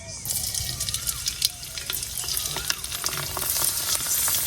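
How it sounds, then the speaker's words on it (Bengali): Leftover-rice papad frying in hot oil, a dense steady sizzle with crackling bursts and occasional stirring clinks, close and fairly loud, with no talking over it. "তেল গরম হয়ে গেছে অনেকটা একটু করে পাপড় এনে দিয়ে দেন"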